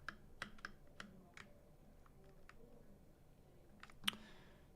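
Quiet, close typing and clicking on a computer keyboard with slightly different hotkey layout than a Mac, scattered keystrokes with pauses and one sharper click near the end.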